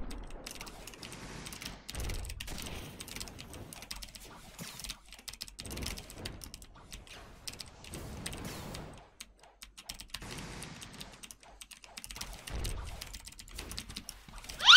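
Rapid bursts of keystrokes clatter on a computer keyboard during a Blox Fruits game session, in quick irregular flurries broken by short pauses.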